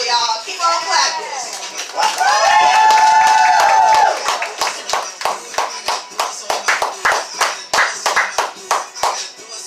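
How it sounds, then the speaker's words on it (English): Audience at a poetry open mic anniversary show claps in a dense, steady rhythm, joined by cheering and whoops, with a host talking loudly over it near the start. "Keep on clapping."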